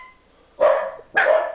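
A puppy gives two short, sharp barks about half a second apart, close by and fairly loud, with quiet in between and no talking.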